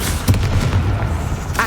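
Fiery Confringo blast spell in the Hogwarts Legacy game: a dense, rumbling booming burst with low thuds, continuing for the whole short stretch at close range.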